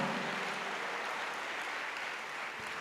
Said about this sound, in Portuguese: aplauda forte ao teu Deus